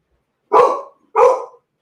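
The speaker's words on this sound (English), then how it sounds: "Like, stop barking." A dog gives two loud, close barks about half a second apart, each a short full-throated burst, with no other sound around them.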